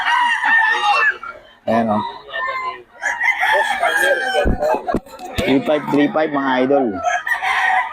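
Roosters for sale crowing loudly and close by, several overlapping cock-a-doodle-doo calls with clucking in between, while a seller talks over them.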